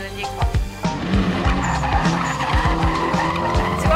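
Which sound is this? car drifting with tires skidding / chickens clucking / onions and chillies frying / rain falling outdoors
car drifting with tires skidding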